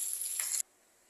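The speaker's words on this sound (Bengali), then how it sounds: "মাছগুলো ভাজা বসিয়ে দিয়েছি, মাছগুলো ভেজে আগে উঠিয়ে রাখবো" Fish sizzling as it fries in a pan, a bright hissing crackle for about half a second that stops abruptly, leaving near silence.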